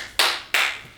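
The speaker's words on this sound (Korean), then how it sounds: "박수 한번 칠게요" Two sharp, close hand claps from a single person, evenly spaced and loud in a quiet room, with no talking.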